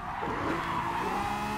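In the Gran Turismo 7 racing game, a Lamborghini V12 Vision GT's tires squeal in a continuous, loud skid over a steady engine roar as the car slides through a turn.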